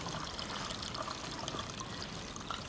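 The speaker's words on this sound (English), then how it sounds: "And I'm pouring it into the bucket with the grit." Settled red ochre water poured into a bucket holding grit, a steady close trickling stream that runs continuously with a small splash near the end.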